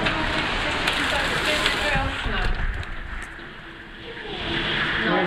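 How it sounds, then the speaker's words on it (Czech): Heavy rain pours down during a cloudburst in Strážnice, a dense, loud, continuous hiss and patter that fills the whole scene without letup. "hodně prší."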